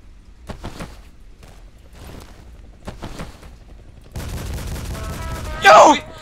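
Gunfire in the Double Action video game on a small close-quarters map: quiet scattered shots and footsteps, then a dense burst of rapid firing and a loud blast near the end, with faint voices in the background.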